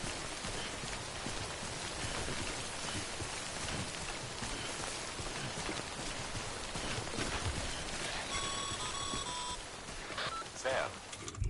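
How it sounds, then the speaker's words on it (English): Timefall rain in the video game Death Stranding, a steady broadband hiss of rainfall spread across the whole span, with a short run of faint electronic beeps near the end. "Don't stay out in the rain any longer than you have to."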